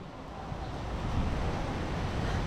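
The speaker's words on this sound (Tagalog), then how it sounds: "Ayan o, hangin o." Strong wind blowing by a river, a loud continuous broadband roar of gusts buffeting the microphone, steady with slight swells, with no voices.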